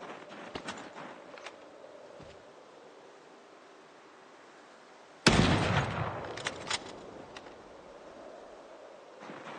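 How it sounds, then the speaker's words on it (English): Gunfire hits zombies in the video game Project Zomboid, with one sudden loud shot followed by a noisy, decaying wash and a few sharp clicks and pops over quiet ambience, with no talking. "Let's see if these spooky bastards want to start moving after I shoot them."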